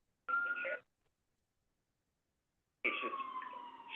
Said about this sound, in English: there's a lot of background noise with those sirens